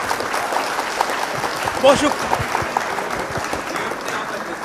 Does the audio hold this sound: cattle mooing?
no